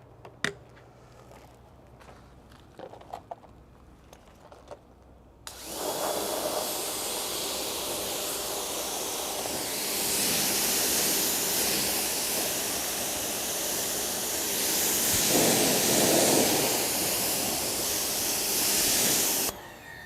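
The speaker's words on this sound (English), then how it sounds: "So we're gonna go ahead and rinse it off" A few faint clicks and handling knocks, then a loud, steady hiss of spraying water rinsing a faded rubber car floor mat, continuing close and even for about fifteen seconds with slight surges.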